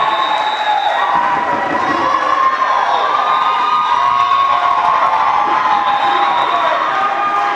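A crowd at a school debate session of the Bilateral Games cheers, shouts and whoops loudly and continuously, young voices blending into a sustained roar with little clapping audible.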